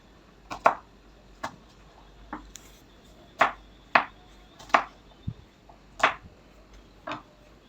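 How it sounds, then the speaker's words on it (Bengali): Knife chopping onions into cubes on a board: about ten sharp, separate cuts in an irregular rhythm with short pauses between, close and clear against a quiet kitchen background. "দুটো পেঁয়াজ কিউব করে নেব"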